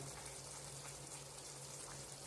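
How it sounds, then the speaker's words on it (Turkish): Steady bubbling and gurgling of beef heart pilaf simmering in a pot until the rice absorbs the water, a continuous low churn with a faint hum beneath. "Yemeğimiz kaynıyor."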